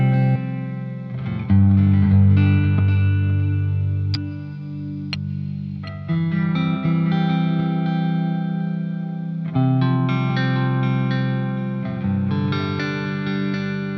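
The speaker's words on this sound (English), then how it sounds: "let's put some reverb and delay into it." An electric guitar through a REVV amp plays sustained chords and notes drenched in reverb and delay, with echoing tails ringing out between phrases.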